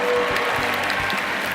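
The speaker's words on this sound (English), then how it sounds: "Give yourselves a big round of applause." An audience at a Jewish celebration in Jerusalem, Israel claps in a brief, dense burst of applause, steady and fairly close.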